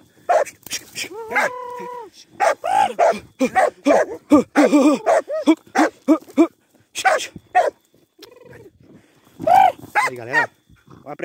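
A hunting dog barks and yips excitedly during a night armadillo hunt in the Brazilian backcountry, loud close bursts of barking with whimpers, while someone talks at intervals.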